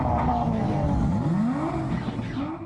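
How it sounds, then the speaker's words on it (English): Street racing cars and stunt motorbikes rev loudly nearby, engine pitch sweeping up and down through repeated accelerations, with hints of tyre squeal in a continuous roar. "Street racing, donuts, motorbikes performing the sort of stunts that should only ever be left to trained professionals."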